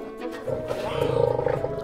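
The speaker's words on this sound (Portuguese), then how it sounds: "Olha só os filhotes de leão." Lion cubs at the São Paulo Zoo giving a short, rough, growling roar that builds over about a second, close and moderately loud.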